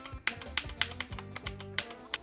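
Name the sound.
pressing Alt-R hotkey on computer keyboard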